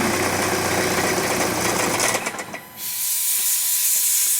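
A diesel TDI car engine with a no-start fault cranks and catches with a loud, rough, hissing roar, then suddenly dies away about halfway through, leaving a quieter steady hiss.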